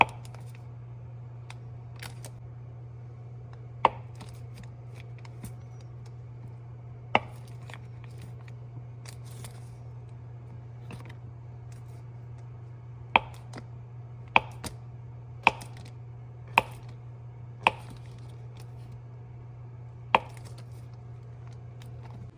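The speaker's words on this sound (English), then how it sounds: "you do want your cold butter to be cubed. So that's what I'm gonna do right now." A knife cutting cold butter into cubes on a board, sparse sharp single taps spread out over a low steady hum, with a quicker cluster of cuts toward the end.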